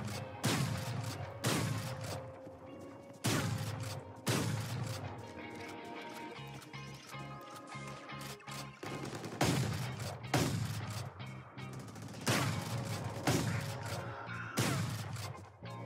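Shotgun blasts from a video game fire in heavy, booming bursts of two or three at a time, separated by a stretch of clicking reload and mechanism sounds, loud and close with no talking.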